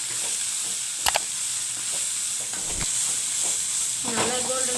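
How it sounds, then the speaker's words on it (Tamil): Onions sizzle in a hot pan with a steady frying hiss, broken by a few sharp scrapes and taps of stirring. "இப்போது ஆனியன் போட்டு ஒரு 2 மினிட்ஸ் ஃப்ரை பண்ணிவிட்டு அப்புறமா பச்சை மிளகாய் போட்டுருங்க"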